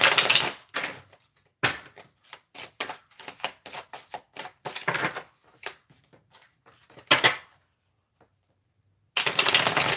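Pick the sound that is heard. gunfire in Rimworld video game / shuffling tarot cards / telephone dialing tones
shuffling tarot cards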